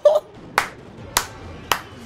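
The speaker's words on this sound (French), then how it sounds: "J'applaudis." Three sharp single claps spaced about half a second apart ring out close and moderately loud over a faint background murmur, during a Clash Royale gaming session.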